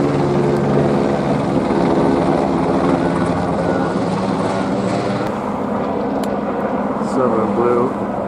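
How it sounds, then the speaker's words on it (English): An LAPD police helicopter drones loudly overhead with a steady rotor thrum, while a voice speaks under the noise. "Helicopter approaching."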